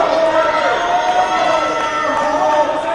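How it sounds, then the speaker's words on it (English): A wrestling crowd at a Reality of Wrestling match roars steadily throughout, a dense continuous wash of cheering and shouting at close range with no pauses. "And you hear how crazy this crowd is for Will Allday."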